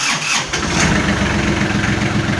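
A Kubota GL tractor with cab turns over and catches, its diesel engine starting loudly and settling into a steady, close rumble with no talk.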